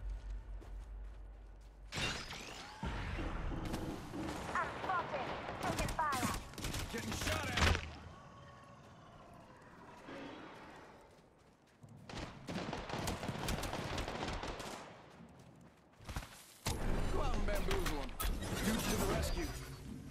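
Gunfire in the video game Apex Legends crackles in dense bursts that break off into pauses and then resume, loud and close, with voices talking between the volleys.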